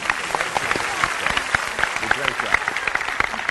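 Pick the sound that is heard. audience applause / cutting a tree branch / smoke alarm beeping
audience applause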